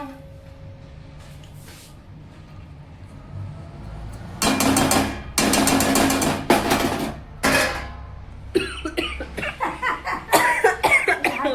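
Several harsh coughs burst out in a cluster midway, followed by scattered clattering kitchen sounds and more rapid bursts near the end.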